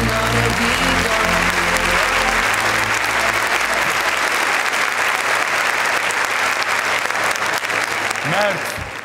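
A television talent show audience applauds and cheers after a dance group's performance, loud sustained clapping and shouts as the backing music fades out beneath, with a host's voice breaking in near the end.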